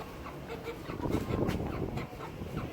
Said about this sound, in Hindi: और ये हमारा एक मुर्गा रह गया